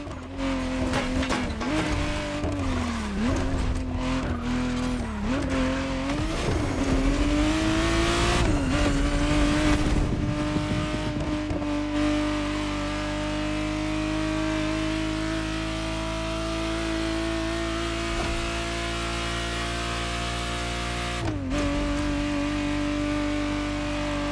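A 1991 Ferrari Testarossa 512 TR in The Crew Motorfest racing game, its engine loud and steady with repeated revs and pitch swings, tires squealing and skidding early on, then settling into a sustained drone.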